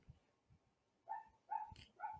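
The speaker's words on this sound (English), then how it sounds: "Those are my dogs in the background if you heard them." Several dogs bark in the background, three or four faint, distant barks spaced about half a second apart.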